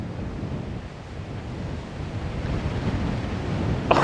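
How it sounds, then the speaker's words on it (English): Strong gusting wind of about 30 mph on an open golf course, a steady broadband roar buffeting the microphone throughout, rising slightly toward the end with a brief bump near the close. "Plus, it's got wind, 30-mile-an-hour wind."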